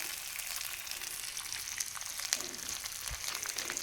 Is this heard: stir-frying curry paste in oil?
yes